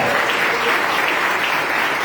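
A church congregation bursts into dense, loud applause at a Wednesday worship service, a steady wash of many hands clapping throughout with no pauses.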